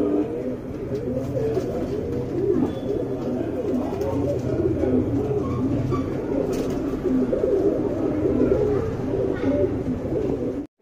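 Tiraval hen and Surumai cock pigeons cooing steadily and up close, a continuous layered burble of low throaty coos with no talk.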